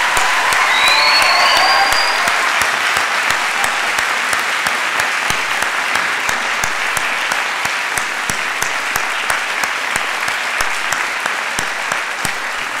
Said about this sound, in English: give a big round of applause for our music faculty and staff